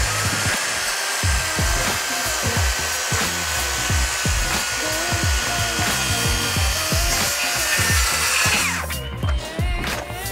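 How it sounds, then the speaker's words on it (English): A circular saw whines steadily through thick timber while framing a timber pergola, loud and close throughout with knocking and scraping underneath, the blade winding down near the end. "We're gonna have to take a few passes on this thing to get all the way through it with our circular saw"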